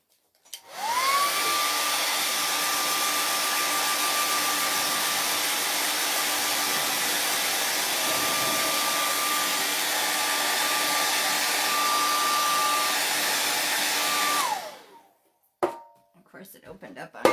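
A handheld dryer blows steadily for about fourteen seconds with a droning whine, drying a chalk paste transfer on a DIY board, then clicks off, followed by a few handling knocks.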